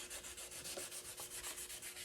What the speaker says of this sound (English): So we'll just give that a light sanding